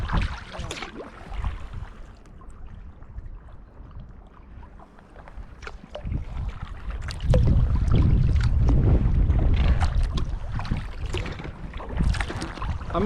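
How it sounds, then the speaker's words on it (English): A kayak paddles through Stockholm archipelago water on the north side of Värmdö, with splashing strokes and rushing water close to the microphone, over wind noise. "kayaking into the setting sun"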